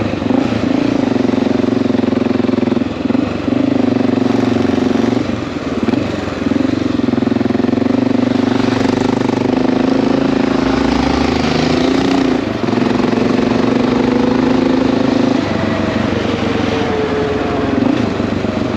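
A Honda XR650L motorcycle idles close by, a loud, steady single-cylinder thrum with slight rises and dips in pitch running unbroken for nearly twenty seconds.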